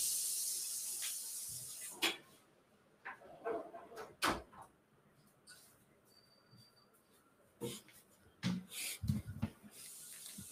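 Intermittent bursts of steam hissing, some sharp and loud, others fainter, with quiet gaps between them.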